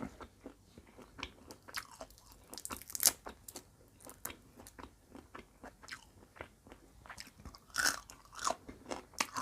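Someone eats a fried cockroach up close, with sharp crunchy bites and repeated wet chewing in an uneven rhythm, loud near the mouth with brief louder crackles.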